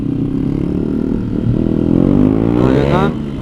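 A Honda CBR motorcycle on a road at night, its engine roaring loud and close with a rising rev that sweeps upward as it passes, heavy wind rumble underneath.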